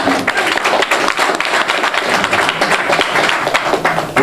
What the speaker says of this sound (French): applaudissez plus fort pour lui